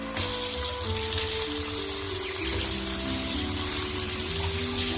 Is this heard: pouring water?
yes